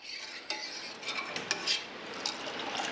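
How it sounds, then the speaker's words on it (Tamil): Ragi millet milk stirred continuously in a pot as it cooks, with soft repeated scraping and light utensil clinks against the pan, close and fairly quiet, with no voices. "இப்போ இந்த பால் நல்லா குக் ஆகிற டைமில் கை விடாமல் கலக்கணும்"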